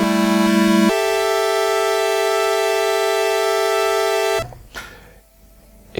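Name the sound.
sustained synthesizer tone from Kodamo Mask1 bitmask synth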